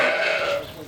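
A sheep (a ewe) gives a single close, wavering bleat that fades into low rumble, waiting to be sheared on a farm.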